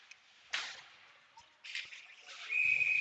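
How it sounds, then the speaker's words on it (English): Referee whistle at a boys' varsity ice hockey game, with sharp piercing blasts rising over a quiet arena background and a final sustained tone at the end. "Now we've got another whistle and another penalty."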